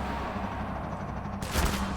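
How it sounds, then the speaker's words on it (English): Gunfire from the Half-Life 2 video game, a broadband burst of shots that starts loud and close about two-thirds through, after a steady hum with a low rumble. "Stop shooting me."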